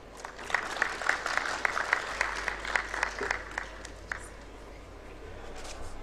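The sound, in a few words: applause for Marceline's presentation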